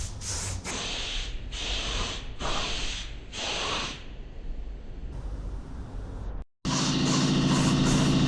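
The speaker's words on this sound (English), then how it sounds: "Pour it into the paint gun and spray." A spray gun spraying Cerakote onto a CMMG 9mm firearm part in a garage hisses in several short bursts with brief pauses between, then a longer steady spray and a hum of machinery at the end.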